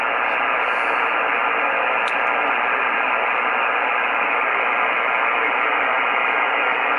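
Steady, loud hiss of receiver noise from an Icom IC-706MKIIG ham radio on a maritime mobile net fills the whole stretch, unbroken static with a couple of faint brief chirps near the start.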